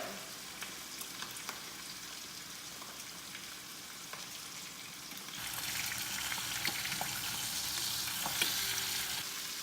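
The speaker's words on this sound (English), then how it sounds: "I'm just gonna brown the top part for about 30 seconds, and then I'm gonna flip it over" Food browning in a hot pan gives a quiet, steady sizzle that grows noticeably louder and fuller about halfway through, with occasional light clicks and no speech.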